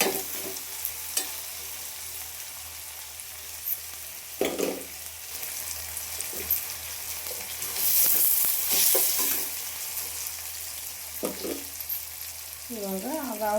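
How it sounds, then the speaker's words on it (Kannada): Onions and tomatoes sizzle in a pan for a Karnataka-style avarekalu palya, with a spatula stirring and scraping in scattered bursts over a steady frying hiss, close and moderately loud. "ಇದು ಸ್ವಲ್ಪ ಚೆನ್ನಾಗಿ ಫ್ರೈ ಮಾಡ್ಕೋಬೇಕು. ಈರುಳ್ಳಿ ಟೊಮಟೊ ಸ್ವಲ್ಪ ಮೆತ್ತಗಾಗ್ಬೇಕು ನೋಡಿ."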